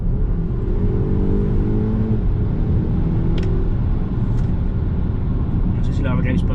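A 2019 Volvo XC60 T8 Twin Inscription hybrid SUV accelerating at full throttle, heard from inside the cabin as a loud, steady engine roar with a rising whine.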